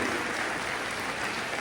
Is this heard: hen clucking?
no